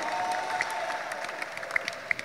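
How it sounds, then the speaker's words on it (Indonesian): A crowd at a Muay Thai press conference in Indonesia claps steadily at moderate distance, a dense patter of hands with a few sharper claps standing out near the end. "Tepuk tangan dong."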